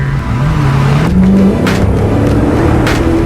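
A Dodge Hellcat's engine revs close by, its pitch climbing and dipping in throaty surges with low-end grunt, and a couple of brief hissing bursts; no talking.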